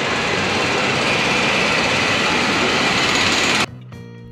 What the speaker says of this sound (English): You gotta watch out for the tram.